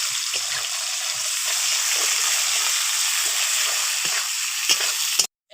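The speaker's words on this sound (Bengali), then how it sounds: "এবার দিয়ে দিচ্ছি কেটে রাখা পেঁয়াজ। পেঁয়াজটাকে আগে লাল করে ভেজে নেব।" Chopped onions hit hot oil over tempered spices for Bengali egg masala curry, giving a steady, loud, close sizzle that runs unbroken for about five seconds before cutting off abruptly.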